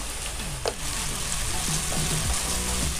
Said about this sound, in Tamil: இப்போது வெங்காயம் சேர்த்துடலாம்.